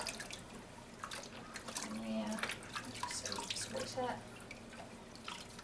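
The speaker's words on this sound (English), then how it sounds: "you can just either use a flannel or your hand to cup the water" Bathwater scooped by hand and poured over a baby's head, giving soft splashes and trickling drips close by while someone talks quietly.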